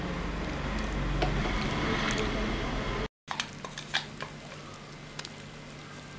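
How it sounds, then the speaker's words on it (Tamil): Tamarind garlic kulambu bubbling and sizzling in a pan, a steady close simmering hiss broken by a brief gap, then sparser pops and crackles. "என்ன குழம்பு ஒரு கொதி வந்தாச்சு"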